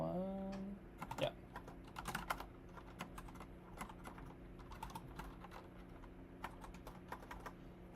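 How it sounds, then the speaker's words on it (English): Typing on a new computer keyboard: a steady run of quick, soft key clicks with irregular rhythm, fairly close and quiet, continuing for several seconds without talk. "So sorry, my typing is so bad."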